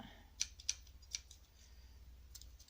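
Scissors snipping through leftover fabric while tying a fabric bow, three crisp close snips spaced a fraction of a second apart, then quiet with a faint fourth cut near the end over low background hum.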